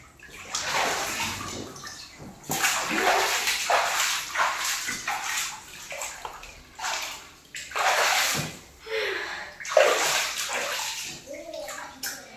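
Water sloshes and splashes in repeated bursts as someone bathes in a home swimming pool, the surges rising and falling with brief quieter gaps between them.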